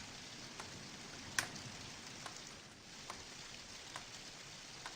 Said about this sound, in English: It's just raining in the barn.